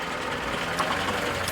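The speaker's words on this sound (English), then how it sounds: "So it's still all engine braking, working us down the hill." A 1970 Land Rover Series 2 engine braking on a downhill run, with a steady, broad engine drone under wind and road noise that holds at an even level throughout, with no voices.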